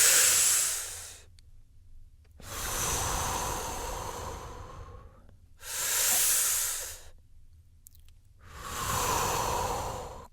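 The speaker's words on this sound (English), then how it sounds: "Now breathe deeply." Four slow, deep breaths follow one another, each a long airy hiss up close with near-silent pauses between, heard alone.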